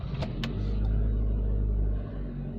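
A Honda S-MX car starting up: a couple of sharp clicks, then the engine catches into a deep, steady idle rumble that swells and holds, close and moderately loud.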